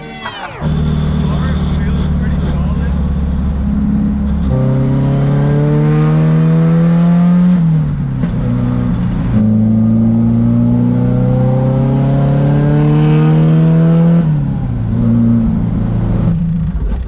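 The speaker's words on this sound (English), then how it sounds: "Steering wheel should be straight now, and the car should drive back." Car driving after a toe-out alignment adjustment with the steering now centered, its engine droning steadily and rising through gear-like pitch sweeps, running loud and continuous close by for the whole stretch.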